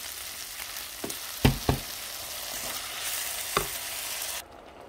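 Rice for a salmon and pea risotto is stirred in a pan while broth goes in ladle by ladle, giving soft sizzling under a few distinct scraping strokes and thumps, before the sound cuts off abruptly.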